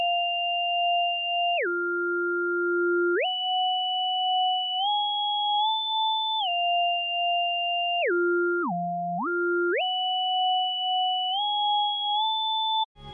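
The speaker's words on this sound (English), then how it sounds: "the synth melody is very simple for section B and it floats above all the other parts" Simple synth melody from the Hades 2 soundtrack, a pure, floating tone stepping between a few held pitches, dipping low twice, heard alone and clean.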